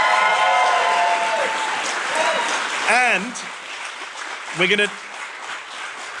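An audience applauds Alana Hadid at the first live taping of a show, with steady broadband clapping beneath someone speaking; the clapping thins and fades as his talk continues.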